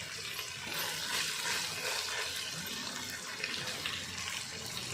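Water pours steadily from a vessel into a pot of vegetable biryani with green chillies, a continuous splashing rush with no voices.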